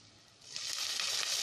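Garlic fries lightly in a pan, a soft hiss that swells after a brief quiet start into a steady, close sizzle.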